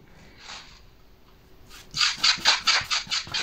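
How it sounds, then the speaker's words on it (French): Medium and fine semolina mixed with olive oil is rubbed briskly between the hands for a herb diet bread, a dry gritty rasping that starts softly then turns into a rapid series of close, rhythmic strokes. "je frotte bien entre les mains pour introduire"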